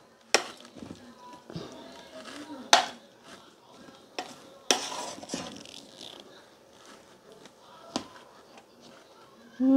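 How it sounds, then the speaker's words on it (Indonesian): Ingredients stirred in a pot for nasi kuning with spices and leaves, a spoon scraping and knocking against the pot in irregular strokes with a few sharper clinks, close and fairly quiet. "Ini tinggal diaduk-aduk biar"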